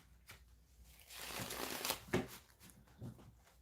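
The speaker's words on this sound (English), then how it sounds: "So let's shuffle these cards." Tarot cards riffle and rustle in a quick papery burst, building to a louder flutter in the middle and tapering off with a few soft taps, close by.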